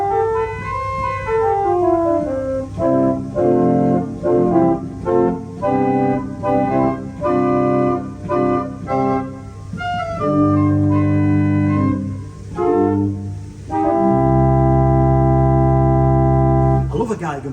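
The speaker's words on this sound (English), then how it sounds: "So the first stop on the swell is that stringy principle." Principal stop on the swell manual of an 1899 J.J. Binns pipe organ at Great Ayton, North Yorkshire, playing a sustained stringy chordal passage with moving phrases, loud and resonant, ending on a long held chord.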